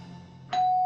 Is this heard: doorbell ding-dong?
yes